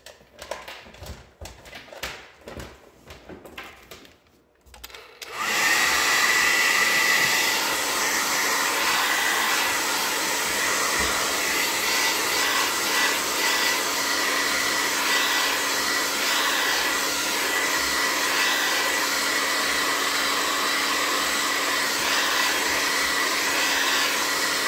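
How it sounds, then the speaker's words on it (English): A hair dryer blows steadily on a wallpaper mixed-media junk journal cover, a loud, continuous rushing whoosh that starts abruptly after a few seconds of faint tapping and handling and then runs unbroken to the end. "So we can blow dry that quickly."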